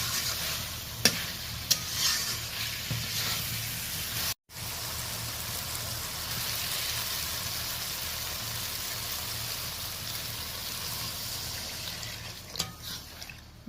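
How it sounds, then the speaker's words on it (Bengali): Fried potato being stirred into spices sizzling in a pan, a continuous close frying crackle with soft scraping and brief clinks, one short break near the middle. "আর এই দেখুন ভেজে রাখা আলুটা দিয়ে দিলাম। মশলা খাঁটে আলুটা দিয়ে ভালো করে নাড়াচাড়া করে নিচ্ছি।"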